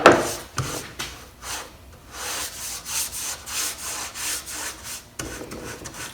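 A cloth rubs clear Dixie Belle Best Dang Wax onto wooden cabinet doors in close, rhythmic back-and-forth strokes, each swipe a soft whooshing scrape repeating about twice a second.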